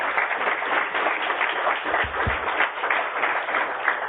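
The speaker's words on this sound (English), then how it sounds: "Big round of applause for them." A meetup audience gives a steady round of applause, continuous mid-level clapping throughout, with a couple of faint low thumps partway through.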